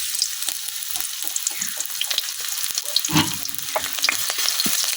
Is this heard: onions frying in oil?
yes